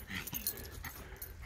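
Puppy making faint, breathy whimpering and grumbling sounds close by, quiet and continuous over a short stretch.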